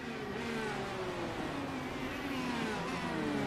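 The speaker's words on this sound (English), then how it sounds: "then hear that sound of that pace car in the pits there." Open-wheel race car engine from the pits during a Formula Indy sim racing game at Monza, a steady loud droning whine with slowly falling pitch throughout, no talk.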